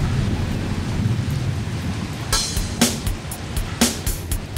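Thunderstorm with heavy, steady rain hissing throughout and several sharp thunder cracks with rumbles toward the end, loud and close.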